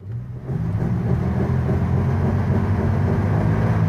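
A 1973 Rover P6 3.5 V8 is revved hard up close, a deep, loud rumbling roar that swells in after a brief quiet start and holds steady, with no voices.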